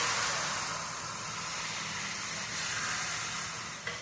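Jowar dosa batter sizzles on a hot pan, a steady, soft broadband hiss that holds evenly throughout with no speech.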